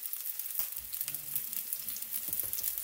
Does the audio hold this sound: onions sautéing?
yes